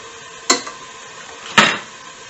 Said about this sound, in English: So just continue stirring the pan now, working that bacon down.